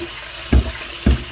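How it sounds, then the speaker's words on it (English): Dishes rinsed under a running kitchen tap, heard as two short splashing bursts of water about half a second apart against a steady low hiss, with no talking. "let's give it a rinse"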